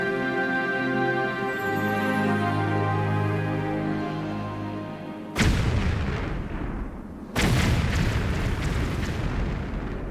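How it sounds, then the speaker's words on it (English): In a custom Tomb Raider level editor level, a sustained rumbling tone gives way to two sudden heavy explosion blasts a couple of seconds apart, each booming loudly and then trailing off in a long rumbling decay. "Yeah, some explosions, and fortunately they don't hurt you"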